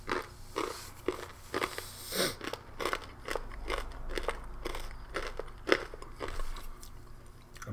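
Close, crisp crunching of corn nuts being chewed, a steady run of sharp bites and cracks with jaw clacking and no talking.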